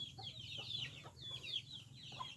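Soft, scattered clucking from a naked-neck chicken, a few short calls spread across the moment over a low rumbling background.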